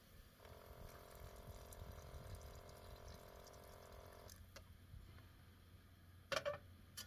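A water tap runs steadily to fill a van's water tank at a BLM campsite, a faint even hum and flow lasting several seconds before stopping, followed by a brief clatter.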